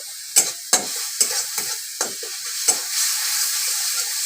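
Small cut pieces of potato sizzle in a hot pan. A utensil stirs and scrapes them in quick, uneven strokes over a steady, close frying hiss.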